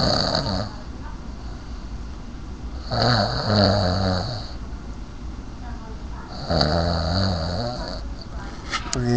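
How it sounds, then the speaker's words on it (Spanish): A man snores loudly after drinking, with three long, rough, rasping breaths spaced a few seconds apart. Faint background noise fills the gaps between them. "él está roncando al lado mío como un maldito"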